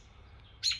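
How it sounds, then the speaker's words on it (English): An agitated mother robin gives a single sharp, loud chirp near the end of a quiet moment, close by and alone. "The mother bird. She is so mad."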